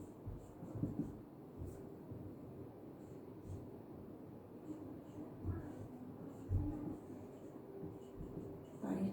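A pen draws a CE amplifier impedance-coupling circuit diagram on paper, making faint, soft scratching strokes close by against a quiet low hum.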